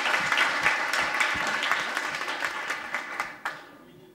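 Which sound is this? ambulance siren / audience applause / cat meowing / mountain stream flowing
audience applause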